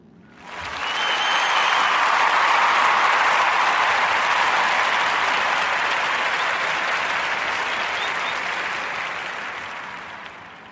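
Audience applause swells quickly into sustained loud clapping for a podcast guest, holding steady for several seconds before gradually tapering off.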